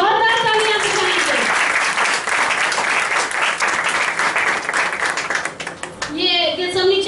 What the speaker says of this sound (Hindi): बच्चों के लिए जोरदार तालियां बजाइए।